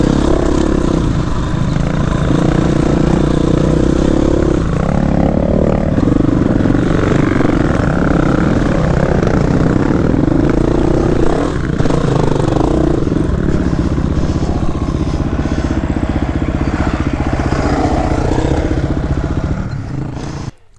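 A KTM 350 EXC-F dirt bike engine runs loud and close, holding a rough, steady drone with small throttle swells and mechanical clatter, then cutting off at the end.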